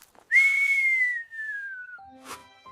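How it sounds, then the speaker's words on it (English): A single person whistles one long, clear note that slides slowly downward, loud and close, followed by a few softer, shorter whistled tones and faint clicks. "why do you whistle?"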